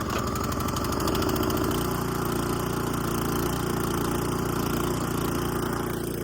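Small snowblower engine with electric start catching and running, a loud, close, steady mechanical drone that settles into an even idle after the first couple of seconds.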